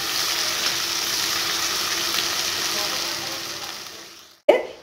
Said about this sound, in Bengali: পেঁয়াজটা আমি হালকা ব্রাউন কালার করে ফ্রাই করে নেব